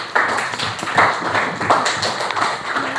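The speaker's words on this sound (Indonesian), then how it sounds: "Tepuk tangan untuk kelompok 4." Continuous clapping from a group of people, dense and fairly loud throughout, with a few brief voices mixed in.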